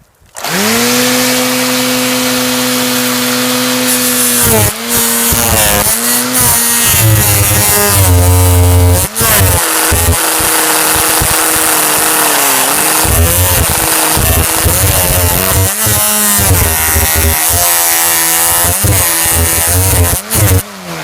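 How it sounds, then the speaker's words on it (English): A Ryobi string trimmer fitted with blades runs at full power in a torture test, giving a loud, sustained high-pitched whine that dips and surges briefly several times. "we're going to run this Ryobi till the blades break"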